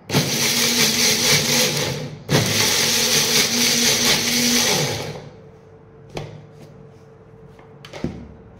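An electric mixer grinds hair pack ingredients into a smooth paste, running loud and steady for about five seconds with a brief stutter near two seconds, then stopping, followed by a few faint clicks and knocks.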